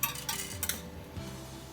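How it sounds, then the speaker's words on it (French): Four egg yolks poured into a mixing bowl: a few light, close clinks and taps against the bowl in quick succession, with a soft settling afterward and no talking. "4 jaunes d'œufs que je verse dans un récipient"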